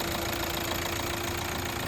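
A Hyundai i20 engine idles steadily during an engine flush with the oil filler cap off, a close, even mechanical hum with a faint knocking pulse throughout and no talk.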